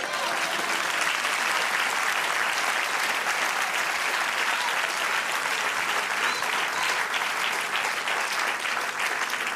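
A church congregation applauds in praise during a Spanish sermon, a continuous, thick wash of clapping from many hands, even and loud for the whole stretch.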